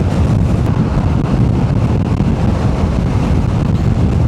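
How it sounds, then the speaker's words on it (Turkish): Strong wind on a coastal motorcycle ride aboard a Honda ADV 350 roars and buffets the microphone continuously, a loud, steady low rumble with no pauses and no voices. "Rüzgar resmen savuruyor ya."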